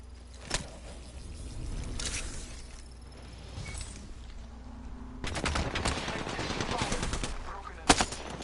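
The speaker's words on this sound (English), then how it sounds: "I'm taking fire" Gunfire from the Apex Legends battle royale game, with sharp shots at the start, a long dense burst of rapid fire in the middle and a loud shot near the end, over a low steady game-ambience hum.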